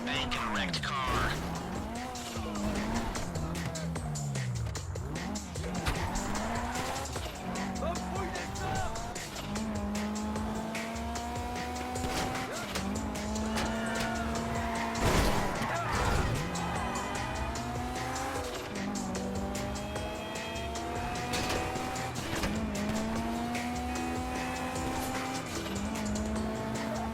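Car driven in Grand Theft Auto 5 during a Fleeca heist setup, engine note climbing and dropping through repeated gear shifts with tire squeals, loud and steady throughout over background game sounds.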